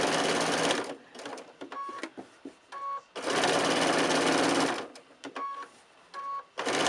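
A sewing machine stitches quilted fabric letters in two sustained loud, close bursts of rapid whirring, separated by quieter clicks and short pauses.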